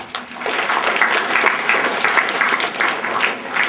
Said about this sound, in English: He deserves a good hand clap.